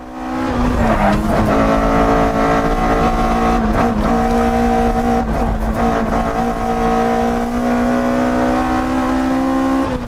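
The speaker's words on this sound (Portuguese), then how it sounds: "Quatro cilindros, girador, com certeza com corpos de borboleta individuais, né? Tem aquele ronco bem característico." A Toyota AE86 four-cylinder fitted with individual throttle bodies revs loud and close, holding a sustained high-pitched engine note for about ten seconds with slight rises and dips and no talking.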